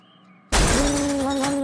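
A thrown plate hits and shatters with an abrupt loud crash after a quiet moment, followed by a bright, sustained breaking clatter that continues to the end.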